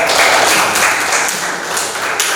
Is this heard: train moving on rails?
no